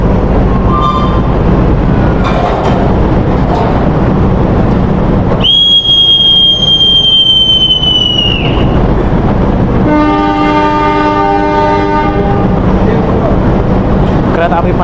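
The Pandalungan passenger train departs Rambi Puji station bound for Jember, its rumbling rolling noise broken by a long, high horn blast and later a second chord-like horn sounding, with a voice heard over it.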